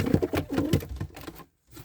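A pigeon coos in a few soft, rolling bursts close by, then falls briefly quiet before one last murmur.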